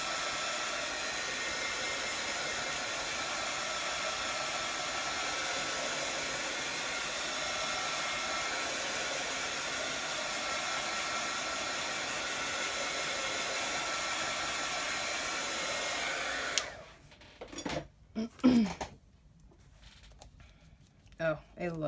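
A hair dryer blows steadily and loudly at close range, drying a coat of paint on a craft page, then cuts off near the end, leaving brief handling noises.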